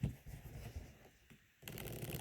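Unsleeved Keyforge cards are riffle shuffled close by, giving a soft, rapid fluttering burst, then a short lull, then another riffle, quiet overall.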